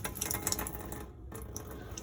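A tap runs with the water pump switched on inside an Auto-Trail Mohican motorhome, giving a soft, steady stream with a faint mechanical whir and a brief dip near the middle.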